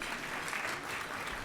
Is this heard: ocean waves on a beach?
no